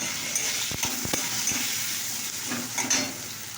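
Bitter gourd frying with turmeric in a pan, a soft continuous sizzle broken by several sharp scraping knocks of a spatula stirring against the pan.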